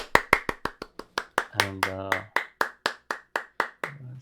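Hands clap indoors in a steady, evenly spaced series of about seventeen sharp, close claps that ring briefly in the room, with a short spoken word partway through.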